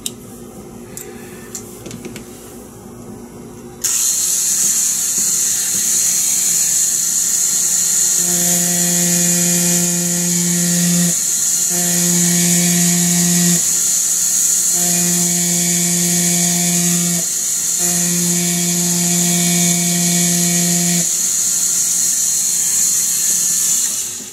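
A handheld rotary tool with a bit fitted whines at high speed, a loud steady shrill tone, while a lower buzzing tone pulses on and off in repeated bursts as the bit works.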